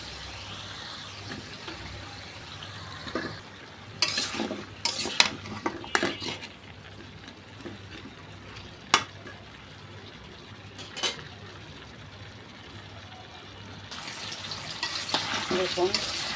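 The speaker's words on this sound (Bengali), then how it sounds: "আলু আর মাংস একসাথে একটু তেলে ভেজে নিলাম" Potatoes and broiler chicken fry together in oil under a low, steady sizzle, broken by irregular clanks and scrapes of a utensil against the pan and a stretch of busier stirring near the end.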